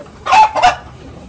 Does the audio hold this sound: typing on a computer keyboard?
no